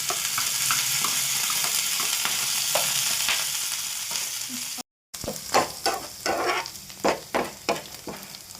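Curry leaves and chilli flakes crackle as they are fried in hot oil for a tempering, with a steady close sizzle, then a short break and rhythmic bursts of spoon-stirring clatter over the hiss.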